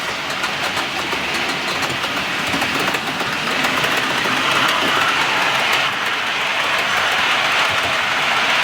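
A train rolls past with a loud, continuous rumble and faint rhythmic rail clatter, steady throughout and close.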